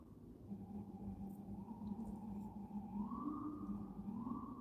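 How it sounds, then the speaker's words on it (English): A siren wails faintly in the distance, its tone slowly rising and falling in a long sweep, fairly quiet against the background. "DJ Siren was in the building just for a moment"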